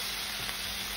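Lavash pizza frying in a 30-year-old cast iron pan gives a steady, close sizzle and crackle for a second, with no voices over it.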